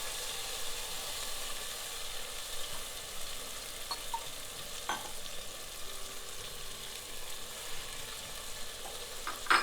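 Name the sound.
masala frying with chopped tomatoes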